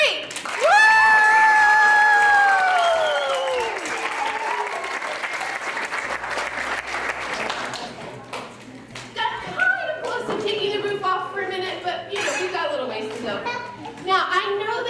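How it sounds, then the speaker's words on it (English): Kids and parents at a family church event clap and cheer for each other; a loud whoop opens the clip, then a lively mix of clapping and excited voices, including children, continues. "kids, clap for your parents. Parents, clap for your kids."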